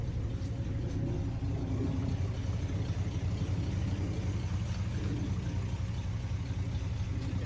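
A vintage car engine idles with a steady, low, close rumble that holds evenly throughout, with no other sounds over it.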